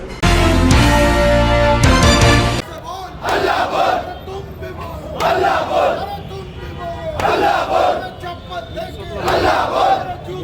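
A large crowd at a Sambhajinagar protest by Ambedkarite party organisations chants slogans loudly in rhythmic, repeated unison bursts, preceded by a brief loud musical or amplified intro.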